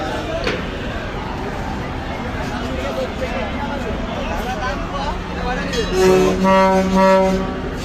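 River passenger launch Manik 1 pulls away from a ghat bound for Dhulia, Gangapur and Borhanuddin, with crowd bustle and talk throughout and a loud horn blast sounding near the end.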